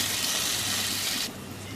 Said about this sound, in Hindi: 3 प्याली पानी की डाल देंगे।